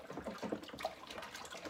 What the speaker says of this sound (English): quick wash of the hands